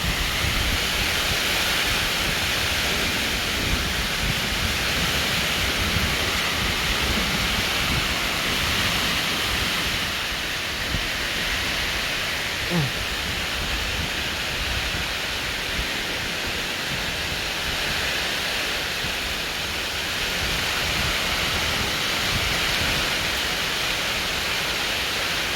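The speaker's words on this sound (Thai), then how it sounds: "ทั้งลมทั้งฝน" Wind-driven rain pours down in a dense, unbroken hiss, a constant roar of water and gusts with no voices or distinct drops standing out.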